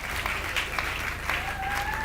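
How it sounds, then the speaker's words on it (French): Applause from a church congregation at a worship service, a steady dense clatter of many hands clapping close by, with faint voices and a thin tone running underneath. "Applaudissez très fort pour le Seigneur."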